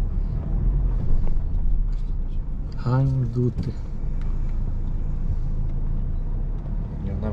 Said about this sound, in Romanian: Accelerează mașina.